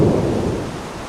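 Thunder rumbles loud and close during a severe August thunderstorm with lightning over a cemetery, a single deep roll fading steadily over about a second.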